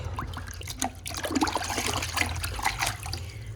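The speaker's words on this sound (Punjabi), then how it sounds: "ਤੇ ਇਹਨੂੰ ਆਪਾਂ ਚੰਗੀ ਤਰ੍ਹਾਂ ਘੋਲ ਲੈਣੇ ਆ ਜੀ" Salt and alum being stirred into a container of water to dissolve them, producing a steady close trickling, swirling liquid sound that continues throughout with small splashes.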